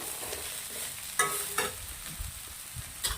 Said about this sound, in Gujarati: શાકભાજીને આપણે 1 થી 3 મિનિટ સુધી કાઢવાના છે